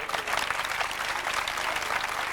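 An audience bursts into dense, sustained clapping, an ovation filling the room at full strength for a couple of seconds with no speech over it.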